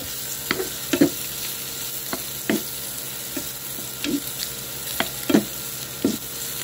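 Chili fries in a pan for spicy Chinese-style dilis with pork and tokwa, a soft steady sizzle broken by about ten irregular spatula scrapes and clinks against the pan.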